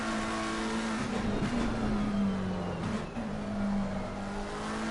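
A McLaren 720S GT3 race car races at Oulton Park in Assetto Corsa Competizione with a loud, close, continuous engine drone. Its pitch rises and falls through gear changes under steady track noise.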